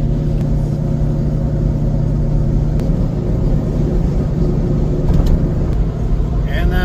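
A Toyota Tacoma pickup cruises along a highway while towing on a camping trip, its engine and road noise forming a loud, steady rumble with a voice talking over it.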